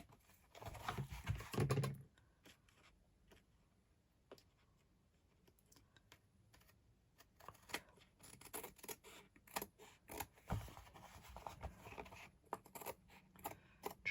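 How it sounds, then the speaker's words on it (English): Scissors cut paper for a junk journal cover, giving soft, sporadic snips and crisp rustles that are quiet and close, with a short louder burst at the start and scattered clicks later. "I'm just going to do it with scissors."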